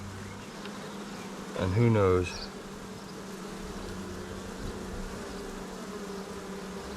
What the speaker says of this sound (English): There is a hell of a lot of bees